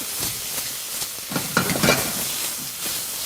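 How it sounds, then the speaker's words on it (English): Broccoli sizzles and hisses in a hot stir-fry pan, with scraping and clattering of stirring in irregular bursts, close by and without talk. "keep it stirred and keep it frying"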